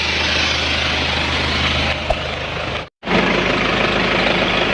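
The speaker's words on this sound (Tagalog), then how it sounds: "I-rev ko ng konti yung makina." An old 2.5L diesel engine runs loudly and steadily close by, its rough clattering hum rising a little before cutting briefly and resuming at full level.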